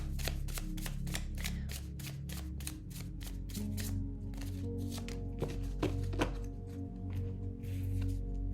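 Tarot cards being shuffled for a reading, a rapid run of crisp riffling flicks and taps close by, quiet overall, with a few heavier thumps as the deck is squared.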